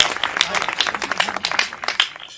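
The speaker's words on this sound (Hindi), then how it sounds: "जोरदार तालियों के साथ ईशान देव को आमंत्रित करिए" Audience clapping to welcome a young poet onto the stage at a Hindi poetry gathering, loud and close with uneven, bursty rhythm throughout the short stretch.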